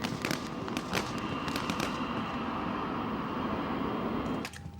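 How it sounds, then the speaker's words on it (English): Several sharp gunshot cracks ring out in a quick cluster aboard a hijacked plane, then a couple more, over a steady background roar. "A Gigéen man is blasted out of the plane by gunshots"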